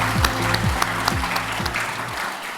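Audience applause at a national SME awards ceremony in Fiji, steady hall-wide clapping with a rhythmic low thumping music beat pulsing underneath.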